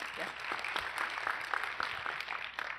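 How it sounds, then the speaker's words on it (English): Audience applause after a talk on the skills students will need, a short burst of scattered clapping from a crowd in a room, steady and moderately loud throughout. "Can we give her a little round of applause"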